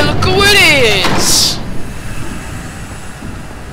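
A loud train roars past in the Batman: The Telltale Series video game, with squealing tonal harmonics and a sharp hiss burst before the rumble fades into softer background noise.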